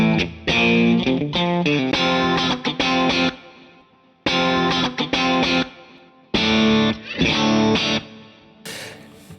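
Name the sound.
guitar through Mesa Boogie Single Rectifier amp, clean channel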